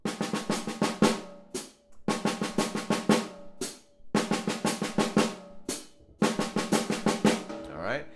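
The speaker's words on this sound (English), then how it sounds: "it's in triplets on the snare drum" Snare drum triplet fills played in four bursts with short pauses between, crisp hits with a hi-hat keeping time, no talking.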